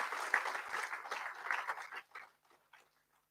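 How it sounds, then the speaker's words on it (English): A seated audience at a valuation conference claps for the chief guest, a dense burst of applause that holds steady for about two seconds, then thins into a few scattered claps before falling silent. "I think a big round of applause required for the today's chief guest address."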